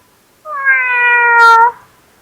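A person's voice imitates a cat meowing, giving a single clear, drawn-out meow that rises and falls, close and loud, with no other sound around it.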